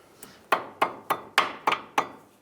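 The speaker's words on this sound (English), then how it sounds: "Put in my cotter pin and bend it over to lock it in." Bending a cotter pin over on a 2003-09 Toyota 4Runner tie rod brings seven sharp, close metallic taps in a quick, even rhythm, with no voices.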